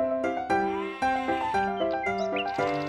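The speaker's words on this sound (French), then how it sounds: "Il était une fois une vieille chèvre." An old goat bleats several times in quick succession, loud and close, with wavering nasal cries and no voices around it.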